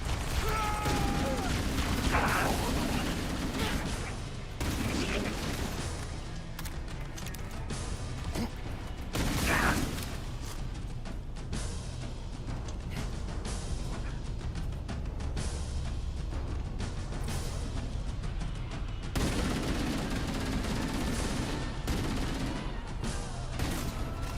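Ongoing gunfire and mechanical clatter in the shooter Halo: Campaign Evolved, scattered shots and bursts across a busy, steady battle din, with occasional sharper cracks and a voice speaking over the action.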